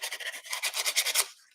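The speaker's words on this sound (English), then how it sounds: "you've just got somewhere in your kit a nail file, one boring nail file, you can rub along it" Paper edge rubbed back and forth with a nail file while making a scrapbooking card, giving a close, quiet series of about ten quick rasping strokes in a steady rhythm.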